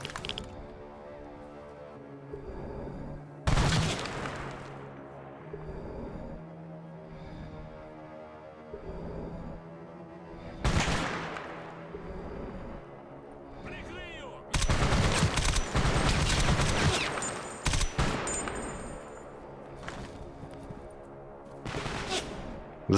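Bursts of gunfire crack out repeatedly over a droning soundtrack in the video game S.T.A.L.K.E.R. Anomaly, with several loud volleys and quieter stretches between.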